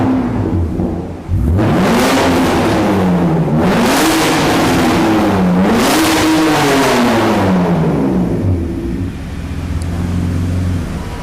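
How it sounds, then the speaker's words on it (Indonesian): A BMW E39 with a custom stainless straight-pipe exhaust revs hard several times, each loud throttle blip rising and falling in pitch over a throaty idle, close to the microphone with no talking. "Nah, ini kita dengerin nih suara knalpotnya."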